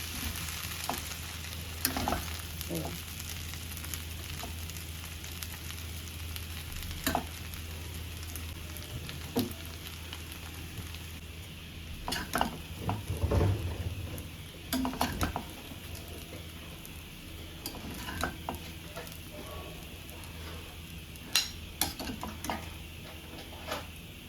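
Khichdi stirred in a pan over a faint, continuous sizzle, with scattered spoon scrapes and clinks, a denser burst of mixing about halfway through, quiet and close.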